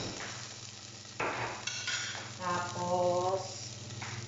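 Hotdog frying in a pan, a steady close sizzle with brief stirring and scraping bursts over a low kitchen hum, no one talking.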